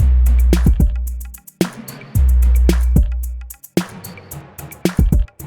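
A deep, boomy kick drum with long sustained low tails, struck a few times in a slow pattern alongside sharper percussive hits.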